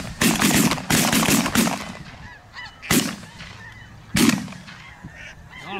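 Shotguns fire in sharp, loud bursts at geese flying overhead on a farm goose hunt, a quick volley followed by two separate later shots, with geese honking throughout.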